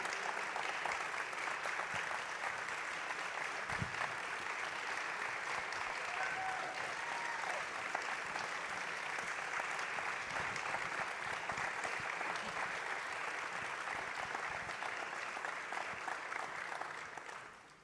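Long, sustained applause from a festival film-screening audience during a Q&A session: dense, even clapping from a large crowd that holds steady for many seconds before tapering off at the end.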